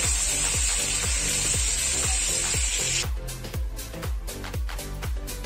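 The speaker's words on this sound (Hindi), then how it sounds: "तो ये इसको नमक के साथ इसको फ्राई करेंगे बहुत अच्छी तरह से" Potato and vegetables frying with salt in a pan, a steady sizzling hiss that cuts out partway through, with a spatula scraping and knocking in an even rhythm throughout.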